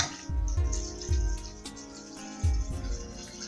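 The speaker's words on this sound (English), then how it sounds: "this is our fresh water. Now we're just going to pour some in there." Fresh water poured into a cooking pot for seasoned pinto beans, splashing and gurgling in a few uneven bursts at close range with a steady watery hiss between them.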